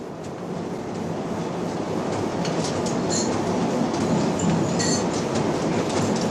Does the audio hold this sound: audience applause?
no